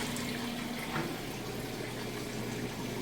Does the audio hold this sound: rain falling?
no